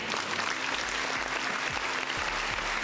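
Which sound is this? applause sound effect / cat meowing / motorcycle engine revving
applause sound effect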